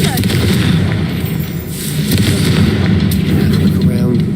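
The Confringo fire spell blasts in Hogwarts Legacy as a loud, dense, roaring burst of explosive crackle that stays thick and sustained for several seconds.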